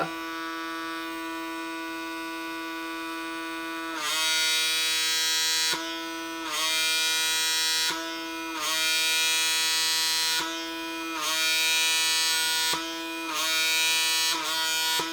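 A PMD microdermabrasion device whirs with a steady motorized hum and suction tone, its pitch dipping briefly each time it is pressed against skin and lifted, close up.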